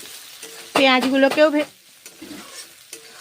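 Onions fry in a pan with a soft background sizzle, broken by a loud, brief burst of stirring and scraping in the middle before the frying settles back to a quieter crackle.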